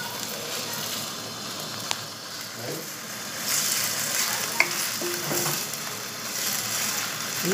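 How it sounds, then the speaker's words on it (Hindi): Chicken pieces marinated in vinegar fry in a pan for chicken roll tikki, giving a steady close sizzle with occasional stirring scrapes and small clinks. "इसको डालकर इसको भूनूंगी और मसाले ऐड करूँगी।"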